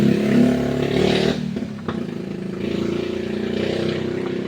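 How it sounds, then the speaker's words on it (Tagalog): A Bluetooth speaker wired to solar power drones loudly and steadily with a deep, boat-like rumble, briefly dipping and then surging back up. "Grabe mga motor parang pambot na. Pwede na gamitin sa dagat. Ang ingay."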